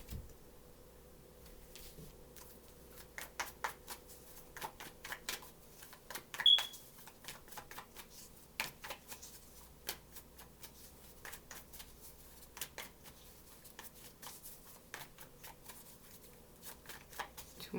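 Tarot cards being shuffled by hand, soft papery riffles and taps in scattered bursts, faint and close in a quiet room.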